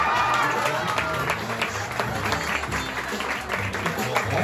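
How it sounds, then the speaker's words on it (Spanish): Audience clapping at a live stage event, a sustained crowd applause with scattered sharp claps and some cheering voices mixed in throughout. "Quiero un fuerte aplauso para Manu González"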